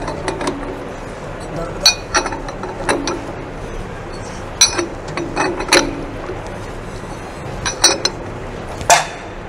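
A hammer taps on the nut of a cylindrical grinding machine wheel, giving sharp metallic clinks in small clusters spread irregularly across the stretch, with low speech in the background.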